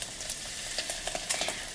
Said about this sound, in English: Next, we heat the oil and butter in a frying pan over a medium heat. And add the onions.